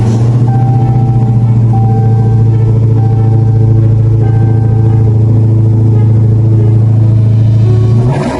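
A 2019 Dodge Challenger Redeye Hellcat Widebody with over 800 hp idles loud and close, a deep steady rumble holding throughout with a slight rise in pitch near the end.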